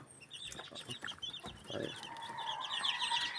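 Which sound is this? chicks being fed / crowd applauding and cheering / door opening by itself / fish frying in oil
chicks being fed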